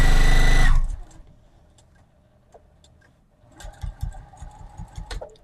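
A Juki sewing machine stitching binding onto a Christmas table runner: a loud motor whir at first, then quiet, then a run of irregular mechanical clicks and taps as the machine works.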